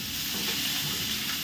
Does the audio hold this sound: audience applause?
no